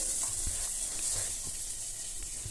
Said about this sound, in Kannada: ಎಣ್ಣೆ ಕಾದಿತ್ತು ಈಗ ಕರಿಬೇವು ಹಾಕಿದ್ದೀನಿ